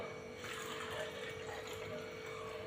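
Liquid poured into a plastic Vim dishwash-liquid bottle, a steady close gurgling trickle of water filling the container for a few seconds without pause.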